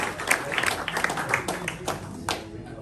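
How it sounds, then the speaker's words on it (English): Brief scattered clapping from a small crowd at a TransCape MTB 2022 mountain bike stage gathering, a few seconds of steady, moderately loud applause. "give him a round of applause for taking him on for the start"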